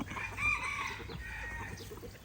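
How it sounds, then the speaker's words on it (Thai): Rooster crowing at a rural resort in Khao Yai, a single drawn-out crow at moderate distance over faint background clucking and ambient noise, no talk. "อุ้ย ไก่ขันแรงมาก"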